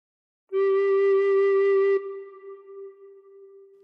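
A single recorder note played with the thumb hole covered and fingers 1 to 3 on holes 1 to 3, blown once: a clear, steady tone held for about a second and a half, then a soft fading tail.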